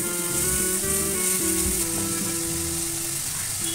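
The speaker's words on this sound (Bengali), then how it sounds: "আদা রসুন বাটা দিয়ে একটু ভালো করে নেড়ে নেবো।" Onion with ginger garlic paste sizzles steadily in hot oil while being stirred, a loud, continuous frying hiss close up with no talking.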